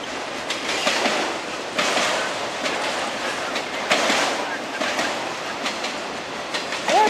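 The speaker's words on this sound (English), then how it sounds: "what you're probably hearing some of is a train going by" A passing train heard in the distance behind an indoor conversation, giving a rumble with rhythmic clacking bursts and a brief wheel squeal near the end, partly under voices.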